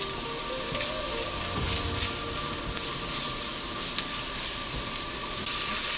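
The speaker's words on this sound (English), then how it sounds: "Just fry them for about a minute or until it became fragrance." Garlic and chili fry in a hot pan with oil, giving a steady, close sizzle that runs without a break from start to finish, with no voices.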